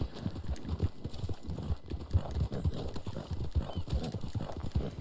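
Horse hooves clip-clop at a steady trot in the Red Dead Online video game, with a short neigh or whinny breaking through the rhythmic hoofbeats, loud and close throughout.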